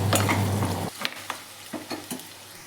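Okra frying in a pan for bendakaya vepudu: a steady sizzle at first, then a few sharp scrapes and clicks of a spoon stirring the pieces, close up and with no talking.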